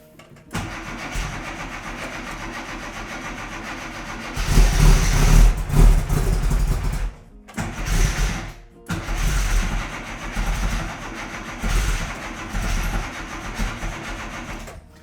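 A small, lively classic Mini Cooper S race engine runs loudly with uneven idling on slightly lean carburettor needles, a few sharp revs and brief dips before picking up again, no voices.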